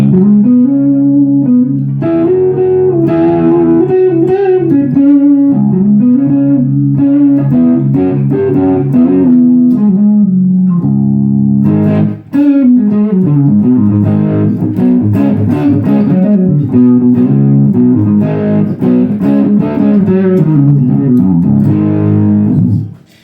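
High-gain electric guitar played through an Orange Micro Dark amp with gain near six and the pickup selector in the middle position, a loud, dense distorted tone of sustained chords and riffs throughout with no talking.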